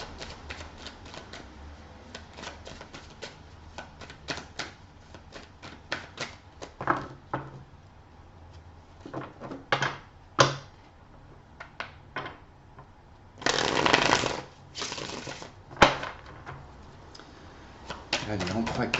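Tarot cards being shuffled before a three-card draw, a run of quick soft riffling clicks and flutters in bursts, with a longer riffle near the end, close by and with no talk.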